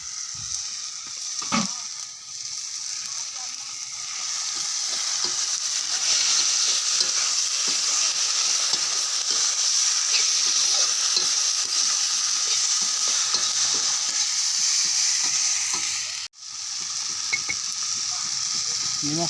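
Mutton pieces fry in a pan for a dish with elephant apple, giving a loud, steady sizzle with repeated scraping from stirring and a brief pause near the end. No one speaks.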